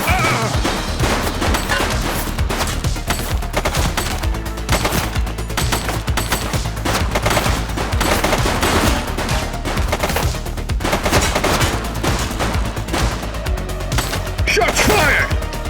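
Dense, loud gunfire from a police video game set in a city precinct, shots crowding together into continuous bursts across the whole stretch with crashing impacts mixed in.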